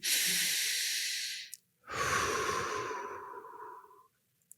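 Two long, deep breaths taken during a movement exercise, a steady airy inhale followed after a brief pause by a longer exhale that slowly fades, close and clear with no talking.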